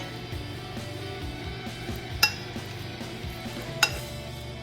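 Potatoes are mashed in a pot, with a masher thudding and scraping in a rough repeating rhythm and two sharp metallic clinks against the pot, close and fairly loud.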